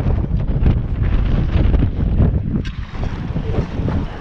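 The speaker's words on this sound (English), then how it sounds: "Oh, that was a good wind right there." A strong gust buffets the microphone while out fishing on the water, a loud continuous rumbling roar that barely eases over four seconds, no talk.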